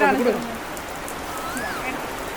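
Sudden rain falls outdoors as a steady, even wash of pattering with a brief louder burst at the start, mid-level and continuous; a faint tonal sound drifts through in the background.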